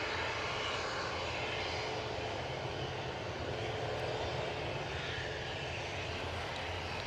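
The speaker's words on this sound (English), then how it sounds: "Next inbound is an EasyJet from Bristol." EasyJet airliner inbound from Bristol to Edinburgh Airport on a windy day, its engines roaring as a broad, steady, loud rumble mixed with wind noise from start to finish, no voices.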